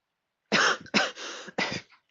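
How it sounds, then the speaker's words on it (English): Three close, sharp coughs in quick succession, from someone who has inhaled part of a berry and has a tickle in the throat; there is no talking. "I coughed again."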